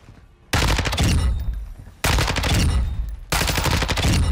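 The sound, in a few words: Lachmann 556 rifle firing at shooting range in video game Warzone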